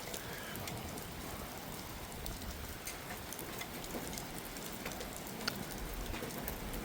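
Steady, dense rain hissing down from a storm cell passing over Montreal, an even wash of drops with no breaks, fairly close and moderate in level, with no voices.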